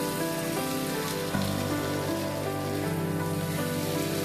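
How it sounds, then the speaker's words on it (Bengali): Potatoes and spices fry in a pan with a steady, dense sizzle and crackle, close and continuous throughout. "আমি আলু আর মশলাটাকে প্রায় মিনিট 4 মতো"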